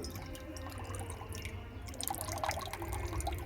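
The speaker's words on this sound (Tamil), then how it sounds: "தண்ணி ஃபுல்லாக கீழே வேஸ்ட்டாக தான் போகுது" Water from a cracked coconut drips and trickles continuously onto the ground below, a soft, close, steady liquid patter at low level with no talking.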